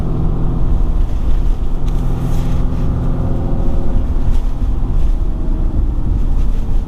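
A RAM HD pickup truck with air suspension driving on a road in Thurmont, Maryland, heard from inside as a constant loud low rumble of engine and road noise with some wind, with no talking.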